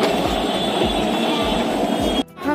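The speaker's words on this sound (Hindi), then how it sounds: "हम आ गए हैं लखनऊ मेट्रो।" Lucknow metro train station, a steady loud rumble of train and rail noise with a rhythmic low thump repeating about every half second, then a sudden brief drop near the end.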